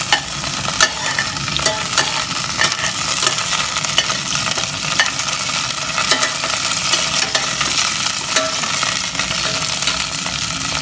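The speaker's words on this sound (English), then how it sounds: "you have to mix it with the oil" Spices are stirred with oil in a pan for Malaysian mee curry, sizzling loudly and steadily, with a continuous fry and scraping stir close up throughout.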